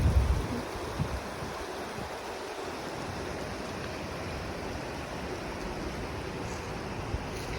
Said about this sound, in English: This is the North Fork of the Stanislaus River,